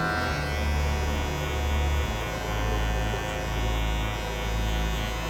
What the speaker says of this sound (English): I'm just kind of picking up the hair and allowing the clipper to cut it and do its thing.